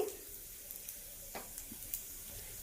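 Mustard seeds and dried red chillies tempering in hot oil for a Telugu chutney, a faint steady sizzle with scattered small pops and crackles, close but quiet, no talking.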